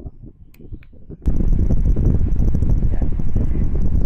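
An electric fan picked up by a wireless lavalier microphone once its noise reduction is switched off: a near-silent start gives way to a sudden loud, steady broadband whoosh that continues to the end.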